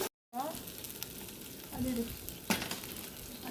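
Ginger and garlic sauté in a pan over a village home stove, a soft, steady sizzle with occasional scraping stirs and a faint clink, heard close but at low volume.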